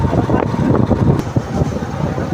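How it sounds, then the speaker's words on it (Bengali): Strong wind buffets the microphone while riding a motorbike on a highway, a loud, continuous low rumble with gusty swells throughout. "আমি বুঝতেই পারছি না যে এতটা হাওয়ার প্রেশার আসছে"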